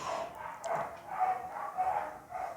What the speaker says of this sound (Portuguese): os meus vizinhos cachorros estão fazendo sinfonia